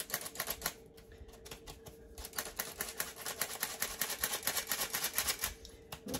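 A double-screen sifter works flour in rapid, rhythmic metallic ticking and scraping clicks, close and fairly loud, continuing in dense bursts throughout.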